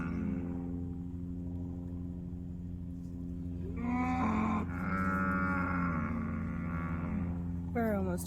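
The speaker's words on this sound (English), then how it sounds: "What kind of cows are those?" Cattle moo during a cow drive, with long, low bellows rising over a steady engine-like hum. Several calls come in overlapping succession at moderate distance, and another animal bellows near the end.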